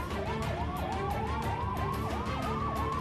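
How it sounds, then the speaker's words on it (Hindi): Several security and police vehicle sirens wail continuously in Karnataka, their pitches sweeping up and down and overlapping over a steady rumble of traffic, loud and close throughout. "सायरन बजाती गाड़ियां"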